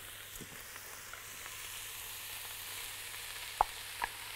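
Corn sautéing in a pan gives a soft, steady sizzle throughout, quiet and close, with two brief sharper clicks near the end from stirring. No one speaks.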